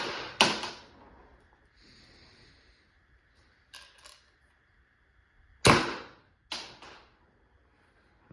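A Spyder Victor paintball marker shoots off its last air after the ASA is shut, giving about five sharp pops spaced a second or more apart, with quiet gaps and faint hiss between them.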